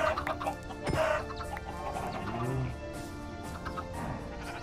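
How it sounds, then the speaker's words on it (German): Chickens clucking in the Minecraft video game, several short game-sound clucks over a busy background of music and other effects, with no talk. "Noch ein Huhn, noch ein Ei."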